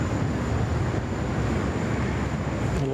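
Jetstar airliner from Melbourne on final approach into Sydney Airport, a continuous broadband jet roar, loud and steady for the whole short stretch with no voices.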